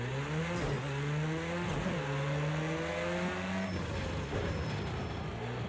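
An Audi S1 EKS RX rallycross car in the Project CARS 2 racing game, lapping Bathurst, revs hard through repeated upshifts, its engine note climbing and dropping in steady cycles, loud and close with no talk.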